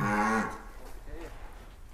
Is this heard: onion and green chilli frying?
no